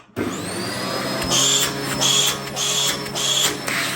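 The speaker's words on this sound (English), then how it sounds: "And it makes quite a noise as well. That's when you block the end of the hose with your hand" Dyson DC04 vacuum cleaner running with the hose end blocked, its suction release valve letting out a loud whining hiss that pulses in repeated bursts over the steady motor drone.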